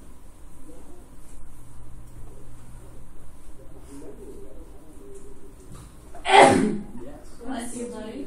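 A single sharp sneeze bursts out in a classroom during a calculus lesson, loud and close, rising above a low hum of room noise and quiet background sounds.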